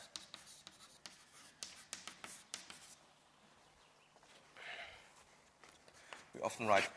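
Chalk or marker taps and scratches on a lecture board come in short bursts, with a quieter stretch and a brief squeak near the end. No one speaks.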